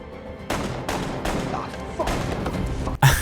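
Gunfire in a police action scene from the film Spiral: about five sharp, loud shots spaced irregularly over a few seconds, with a busy background and some voices beneath.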